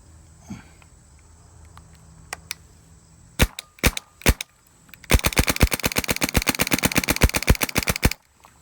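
An Eclipse MG100 paintball marker fed by a box rotor loader fires a few separate sharp shots, then a fast, steady stream of rapid pops for about three seconds, loud and close.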